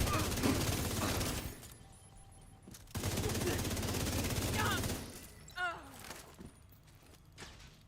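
A deployed turret in The Division 2 fires sustained rapid bursts, loud and dense for a few seconds, stops briefly, then rattles again before fading to scattered shots and quieter ambience.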